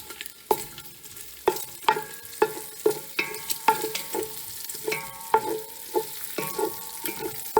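Bacon frying in a pan for homemade chili crackles softly under repeated sharp clinks and scrapes of a utensil against the pan, which come in an uneven rhythm of roughly one or two per second.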